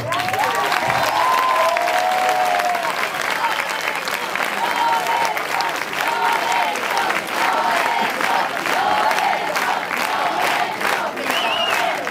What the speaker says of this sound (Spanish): o aplauso máis grande ten que ser para él por a súa trayectoria